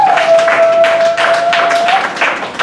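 A church congregation claps together in a steady, rhythmic beat, loud and close, with a sustained tone holding underneath for part of the time.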